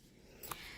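Scissors clipping thread near a knot, a single faint quick snip close by in a quiet room.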